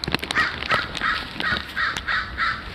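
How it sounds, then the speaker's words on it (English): Several crows cawing outdoors in repeated harsh calls, fairly close and overlapping in an irregular rhythm, with no voices. "these crows are going nuts."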